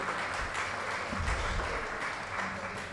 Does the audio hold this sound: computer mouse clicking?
no